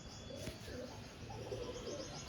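Pigeons at a pigeon sale in Madhyamgram, among them Madrasi and Giribaz breeds, give faint, low cooing under a constant background hum of the place.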